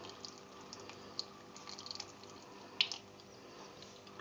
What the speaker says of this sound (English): I'm just going to pour a clean pour right across the bottom of the mould like that